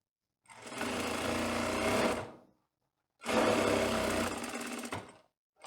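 Two steady runs of a sewing machine stitching a one-centimetre skirt seam down toward the hem, each a close, even whir lasting about two seconds, separated by a short silence.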